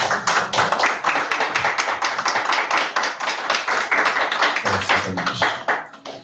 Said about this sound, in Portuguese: E as palmas louvam ao Senhor.